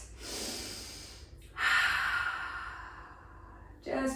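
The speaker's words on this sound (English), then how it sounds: "Let's fuel the body a bit here with some nice deep breaths." Deep breaths during a vinyasa yoga session: a long airy inhale, a fuller sighing exhale, then the start of another breath, close and clear with no talking.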